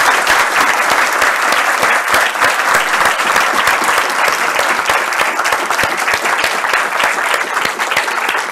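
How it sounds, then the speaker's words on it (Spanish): Sustained audience applause closing a film-and-democracy screening talk, a dense steady roar of many hands clapping close and loud throughout, with no voices on top. "Un gran aplauso"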